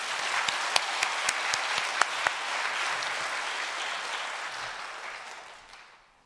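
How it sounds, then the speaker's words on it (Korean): A large congregation at a Korean Easter joint worship service applauds in a dense, even wash of clapping, with a few sharp claps standing out early before it fades away. "하나님께 영광의 박수 돌립시다"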